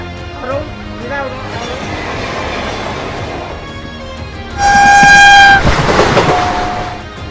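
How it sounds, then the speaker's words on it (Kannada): A passenger train rumbles past near Chamarajanagar railway station with rhythmic clattering of wagons, then a loud, sustained horn blast rings out before the rolling noise continues. "ಈ ಸ್ಪೀಡ್ ನೋಡ್ಬಿಟ್ಟು ಪ್ಯಾಸೆಂಜರ್ ಟ್ರೈನ್ ಅಂತ ಹೇಳ್ತೀರಾ?"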